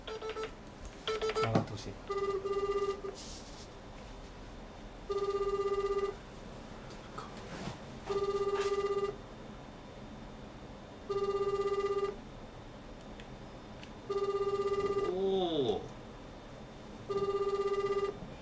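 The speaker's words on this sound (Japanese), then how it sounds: "明楽さんかけてみようか。" Japanese outgoing call ringback: repeated two-second bursts of a bright electronic ring tone with pauses between, after a short burst of dialing tones, and an unanswered call ending in a falling chime.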